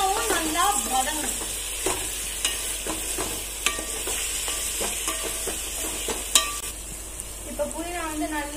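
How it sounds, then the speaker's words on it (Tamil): Mint leaves sautéing and being stirred in a pan for country chicken biryani, with a steady close sizzle broken by repeated scraping stirs; a voice talks briefly at the start and end. "இதுவும் புதினாவும் நல்லா வதங்கணும்"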